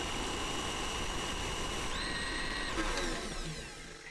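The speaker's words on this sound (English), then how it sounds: "Mix on medium to high for a few minutes to cream the butter and sugar together" A stand mixer whisk creams butter and sugar for cinnamon roll dough, giving a steady, loud mechanical whir that runs the full length with a constant high whine, easing off slightly near the end.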